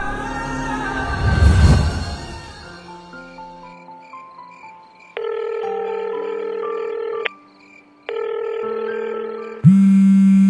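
A telephone rings in a dramatic scene before it is answered, a series of sustained electronic tones starting and stopping in bursts, following a brief swell of noise at the start.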